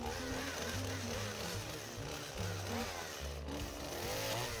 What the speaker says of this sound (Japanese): 絡んだツルをチェーンソーで切ります。